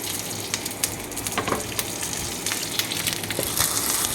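Mustard seeds, fenugreek, dried chillies and curry leaves frying in hot oil for a traditional Onam dish: a steady, loud crackling sizzle dotted with sharp pops of spluttering seeds, with no talk.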